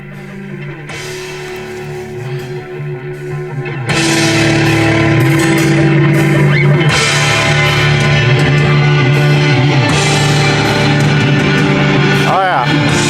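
Music plays through the upgraded speakers inside a Toyota pickup truck's cab, starting quieter and then jumping louder after a few seconds, a full steady mix with bass and sustained tones filling the space.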